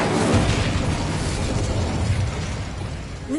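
Incendio fire spell cast in the game Hogwarts Legacy, a loud whooshing burst of flame roaring continuously and fading slightly at the end.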